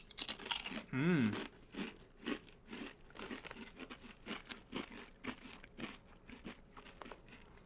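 A thick-cut zesty garlic potato chip is bitten and chewed close to the mic, giving a rustle of the bag followed by a series of sharp, irregular crunches.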